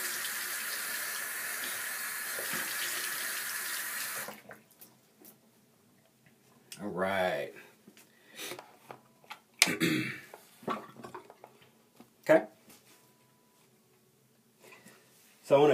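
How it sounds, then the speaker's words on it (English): Tap water runs steadily at a bathroom sink, then stops, followed by scattered splashes and drips as hands and face are rinsed during a Dead Sea skin care routine. "I'm going to just rinse my hand off and rinse my face off"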